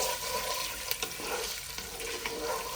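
Steady hissing sizzle with scraping strokes as pulihora rice mixture is stirred in a hot pan, a dense continuous frying noise with occasional faint clicks of the spoon.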